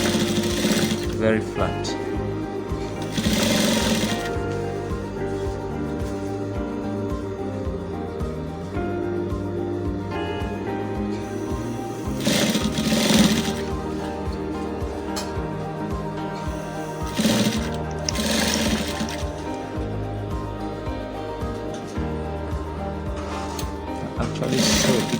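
A sewing machine stitches vintage shirt fabric in bursts of steady mechanical whirring, stopping and starting, with a person talking briefly over it.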